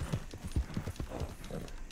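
A horse's hooves clip-clop in Red Dead Redemption 2, a run of close, regular hoofbeats over a quiet background.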